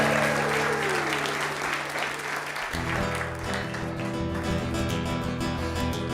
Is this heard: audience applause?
yes